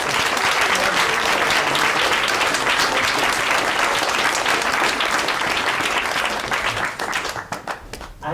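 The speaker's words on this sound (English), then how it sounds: "I'd just like to give Marco another round of applause" An audience at a fracking discussion night claps for a speaker, sustained dense applause from a room full of people that thins out into scattered claps near the end.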